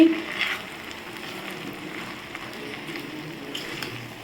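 Soft, steady sizzling of sundakkai (turkey berries) sautéing in a pan for chutney, a low continuous crackle with faint stirring noises.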